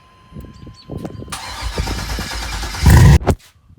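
A cammed LS 6.0 V8 swapped into a G-body cranks with a few rough clicks and whirs, then catches in a loud, close roar that surges and cuts off abruptly.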